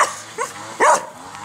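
Jack Russell and Staffy crossbreed dogs let out two short yipping barks close by, with a brief whimpery edge, the second louder than the first.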